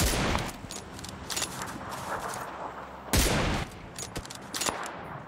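Gunfire in PUBG Lite: sharp shots and short bursts ring out in uneven clusters, with a loud volley around the middle and scattered cracks toward the end.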